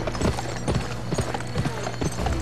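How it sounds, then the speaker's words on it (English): Rhythmic clip-clop of horse hooves at a steady trot in the video game GUN, close and clear, slowing slightly over a low ambient background. "See where the horse is slowing down."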